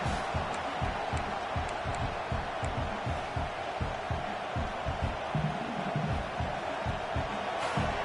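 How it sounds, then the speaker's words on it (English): A large college football stadium crowd roars in a continuous, distant wash of noise, steady throughout with no distinct voices standing out. "Listen to the crowd energy here in the early going."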